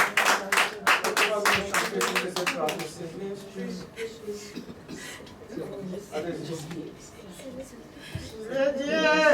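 A church congregation claps in quick rhythmic unison at first, then the clapping gives way to a preacher's loud voice carrying on over the room.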